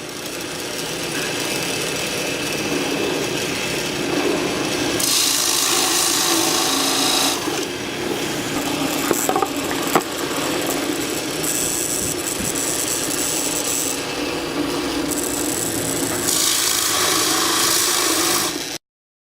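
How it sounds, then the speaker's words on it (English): A power drill whirs steadily and loudly for the whole stretch, drilling holes in wood, with brief pauses and shifts in pitch as it bites in, no talking. "So now I can drill the holes for the buttons."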